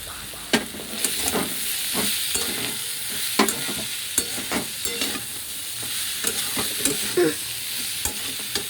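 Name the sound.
stir-frying banana flower with prawns and garam masala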